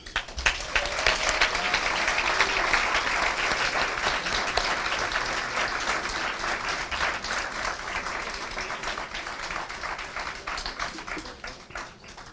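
Sustained audience applause fills a graduation commencement ceremony, a dense, steady wash of many hands clapping that stays loud throughout and tapers slightly toward the end.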